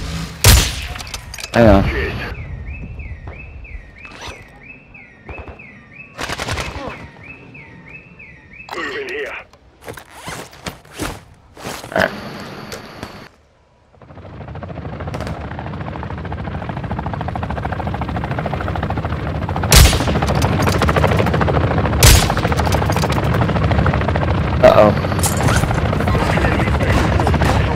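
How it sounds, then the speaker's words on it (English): Gunfire and explosions in the video game Call of Duty DMZ, with bursts and booms scattered through a loud, dense battle mix, a zipper-like clatter early on, and a voice speaking briefly over it. "Taking defensive fire."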